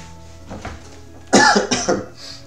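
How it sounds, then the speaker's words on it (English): A person indoors in dry air coughs several times in a quick burst, close and loud, after a few quieter throat sounds. "Hold on, that's why I'm coughing so much."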